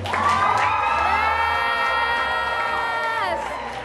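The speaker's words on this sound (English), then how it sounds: "let's give them a real big round of applause" Wedding guests cheering and whooping for the couple, a loud, close burst of mixed voices and shouts that holds steady for a few seconds and then eases slightly at the end.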